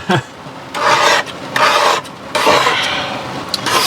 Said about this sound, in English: we're gonna finish scraping the glue